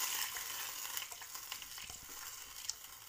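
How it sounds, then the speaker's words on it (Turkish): Tarhana soup stirred in a pot gives a soft, steady hiss with light scraping taps of the spoon, close but quiet, with no voices. "Sürekli karıştırıp topak olmamasını sağlamak gerekiyor."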